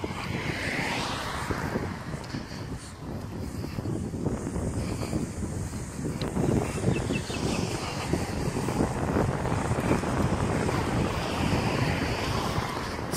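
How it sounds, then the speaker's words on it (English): Steady wind buffets the microphone outdoors on a very hot, windy day near a railway line, a continuous loud rumbling roar throughout with no speech. "Excuse the wind, guys, it is very hot and windy"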